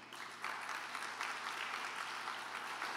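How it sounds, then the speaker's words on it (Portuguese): A church congregation applauds throughout a Sunday family service, with sustained, dense clapping that swells slightly after a moment and carries on steadily at moderate volume with no voices over it. "Dê um aplauso a Jesus."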